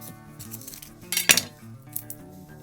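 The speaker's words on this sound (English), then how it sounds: "I'm gonna slice off this side, cut that in half." A knife slices an onion on a cutting board, giving a few quiet, light knocks and clicks against the board over a couple of seconds.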